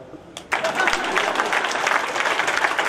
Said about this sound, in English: You can now clap.